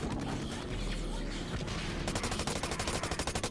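Rapid automatic gunfire in the shooter game Blacklight: Retribution, with dense chaotic shots that settle into a fast, evenly spaced burst of loud repeated cracks.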